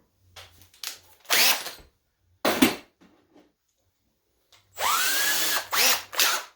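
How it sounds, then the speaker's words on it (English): A cordless drill with the clutch turned down whirs in several short bursts while driving screws into drywall anchors to mount a wall shelf, near and fairly loud, with quiet gaps and small clicks between runs. "So I always like to turn my drill down, set the clutch properly to where I'm not going to over torque the screws."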